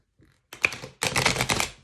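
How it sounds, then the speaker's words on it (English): Slightly stiff tarot cards being shuffled by hand: a short tap, then a dense, fluttering riffle of cards lasting under a second, close and fairly loud. "So my shuffling's a little wonky."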